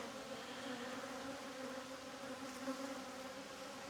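Honeybees swarm a queenless hive during a full apiary inspection, filling the air with a dense, continuous buzzing drone that holds steady and close throughout.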